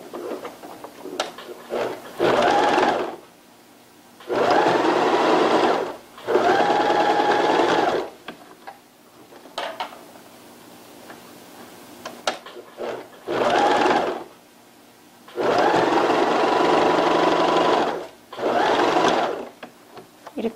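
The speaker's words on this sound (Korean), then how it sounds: "오른쪽, 왼쪽 다트 박음질을 하겠습니다." A sewing machine stitches diagonal darts on the front panel of a leggings skirt, several loud sustained runs of whirring stitching of a few seconds each, separated by quiet pauses with faint handling of fabric.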